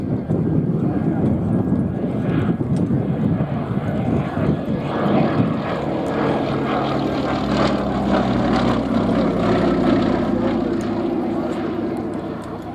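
A propeller-driven aircraft drones steadily overhead at an airshow, a sustained engine roar with shifting pitch as it passes, heard under continuous commentary from a man.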